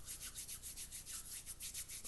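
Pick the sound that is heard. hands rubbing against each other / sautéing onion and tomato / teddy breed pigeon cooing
hands rubbing against each other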